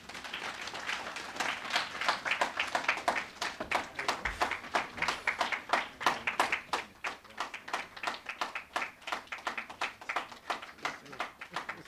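A lecture audience applauds, with steady, dense clapping that swells and slightly thins toward the end. The applause sounds close and fills the hall, with a brief low thump partway through.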